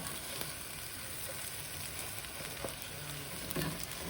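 Eggs sizzling quietly in a hot pan, a steady soft crackle and hiss with occasional small pops, no voices.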